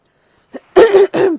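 A person at home clears their throat and coughs, a short soft catch followed by two harsh, close throat-clearing bursts in quick succession, with no talk over them.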